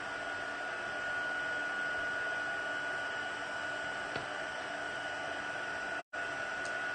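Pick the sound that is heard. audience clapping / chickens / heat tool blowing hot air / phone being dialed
heat tool blowing hot air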